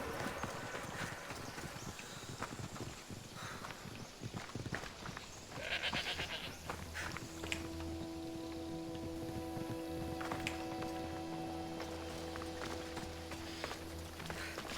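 Goats bleat amid clip-clopping hooves and other livestock in Assassin's Creed Odyssey, set in ancient Greece, with the animal calls mixed into game ambience and sustained tonal sounds, no talking over them.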